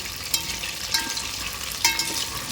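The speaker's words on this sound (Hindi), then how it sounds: "बस ये चिकन को फ्राई करके निकालते हैं।" Marinated chicken frying in hot oil on a high flame for biryani, a steady close sizzle with a few sharper spits and crackles, no talking.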